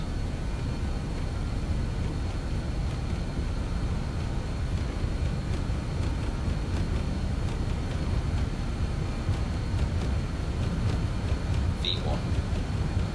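BAE 146 jet engines at takeoff power in Microsoft Flight Simulator, a steady broadband roar that holds evenly throughout with a deep low rumble, plus a brief chirp near the end.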